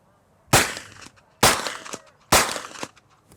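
Three suppressed gunshots sound at even intervals from a host gun fitted with a CGS MOD-9Sk suppressor in its smaller configuration. Each is a sharp, loud crack followed by a short decay, with quiet between shots.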